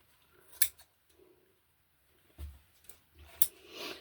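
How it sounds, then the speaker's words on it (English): Scissors snip through a paper panel for a junk journal in a few short, crisp cuts separated by quiet pauses, close and fairly soft. "So we have to cut this off."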